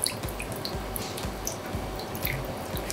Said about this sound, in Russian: Заливаем нашей томатной основой